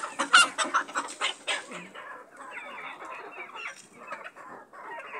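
Chicks and ducklings on a farm make a run of close, rapid peeping calls that thin into softer, continuous chirping.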